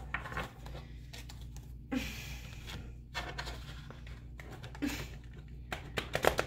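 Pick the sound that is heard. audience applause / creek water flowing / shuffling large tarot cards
shuffling large tarot cards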